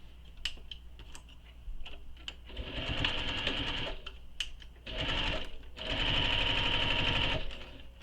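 A sewing machine stitches fused fleece for a handmade toy in short clicking taps, then in three sustained whirring bursts of fast stitching separated by brief pauses, close and clear.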